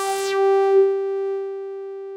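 Synthesizer tone with filter 1's output run through filter 2: a steady sustained pitch with a strong stack of harmonics, a brief noisy burst at the onset and a slight swell, then holding evenly to the end.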